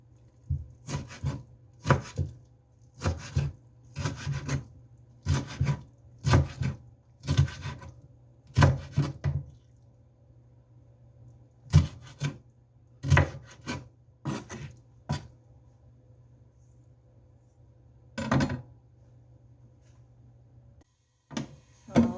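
A knife slicing kimchi on a cutting board, a run of about a dozen crisp, evenly spaced cuts, then a pause and a few more scattered strokes, close and clear with no talk.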